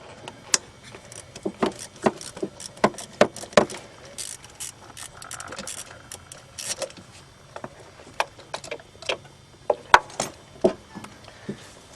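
A ratchet backs out the 10mm ignition coil bolts on a Chevy Trailblazer 4.2 inline-six. Short bursts of sharp clicking repeat close by at irregular intervals, with small metallic clinks between them.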